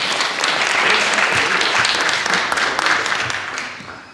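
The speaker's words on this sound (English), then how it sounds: "you all deserve a real round of applause" A forum audience breaks into sustained applause, dense clapping from many hands filling the room at a steady level for about four seconds, with no voices over it and a slight fade at the end.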